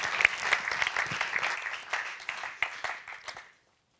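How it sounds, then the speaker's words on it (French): An audience at an advertising awards show applauds a campaign, lively clapping with a few sharper claps and cheers standing out, rising and falling before stopping abruptly into silence. "On les applaudit encore pour cette très belle campagne"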